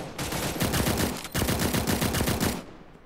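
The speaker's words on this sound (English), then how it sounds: "So my teammate shooting at someone." Rapid automatic gunfire from a teammate in the open-world battle royale game Cyber Hunter, two loud sustained bursts of evenly spaced shots with a brief gap between them, close and dominant.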